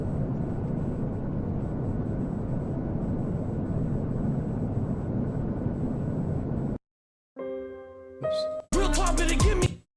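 Roaring airplane cabin noise in a song, a steady broadband rumble that holds for several seconds, then cuts off abruptly into sparse musical tones and a brief burst of sound.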